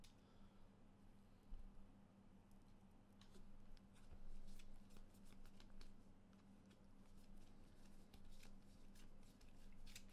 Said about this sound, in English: Some shuffling my deck in the background.